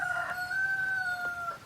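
A rooster in a backyard chicken coop crows once in a long, drawn-out call, close and clear over a quiet background.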